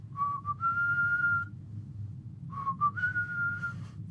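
A man imitates a hobgoblin's whistle during a tabletop role-playing game, two short clear whistled phrases, each rising into a held note, close and alone over a low room hum.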